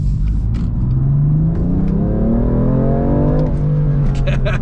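A BMW M4 Competition's engine rumbles and climbs in pitch as it revs under acceleration while driving, a steady loud drone heard from inside the cabin.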